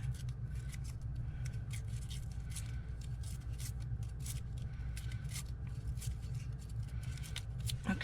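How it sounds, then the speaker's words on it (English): Paper is torn by hand along both sides to cover staple holes for a December Daily craft spread. The tearing comes through as a steady, close rasp made of many fine crackles, with a constant low hum underneath and no talking. "I just want to tear both sides"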